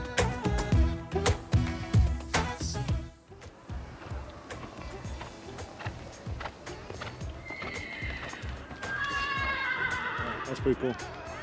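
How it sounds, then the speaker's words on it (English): Horses at a park riding area in Antalya, Turkey, with busy clip-clop hooves up close and several loud whinnies and neighs, while people talk and move about nearby. "You got a place where you can ride a horse"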